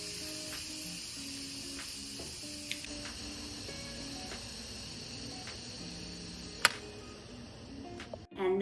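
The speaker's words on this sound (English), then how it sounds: "time to finish releasing the pressure" An Instant Pot finishes releasing its pressure after cooking chicken and lemon orzo, its valve letting out a continuous, loud, close jet of hissing steam with a few small clicks, and a sharper knock near the end.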